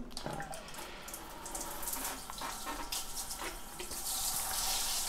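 Water sprays steadily from an old HammerHead handheld shower head, a close, continuous hiss that grows gradually louder toward the end, with no talking.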